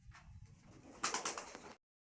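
Pigeons in a loft, including young birds, give soft cooing and rustling close by, with a louder burst of calls in the second half before the sound cuts off.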